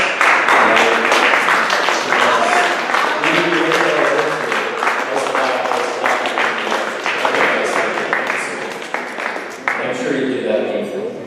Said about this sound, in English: I want you guys to give your parents a round of applause.